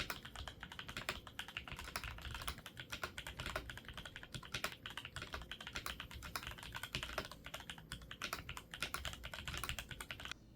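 Rapid, continuous clacking from typing on a Drop CSTM80 keyboard with a polycarbonate top case and plate, Gateron yellow KS-3 Pro switches and stock keycaps, close and even, with no voices.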